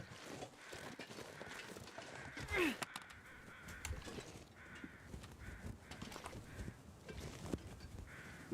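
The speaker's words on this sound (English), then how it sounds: "I hear crows, though." Crows caw repeatedly in a video game, several harsh calls spread through the clip over a soft ambient bed.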